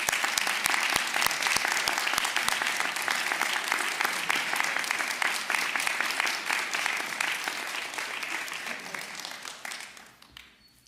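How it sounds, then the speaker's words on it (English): A graduation audience at a college honors program cording ceremony breaks into sustained, dense applause of many hands clapping, steady and loud before tapering off near the end. "Let's give them a round of applause, everybody."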